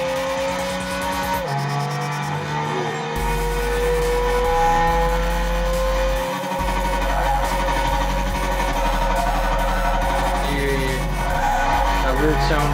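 A Subaru BRZ in Gran Turismo 6 with a continuous loud engine drone whose pitch drops and jumps as it downshifts through the gears, punctuated by brief gaps and shifts in tone.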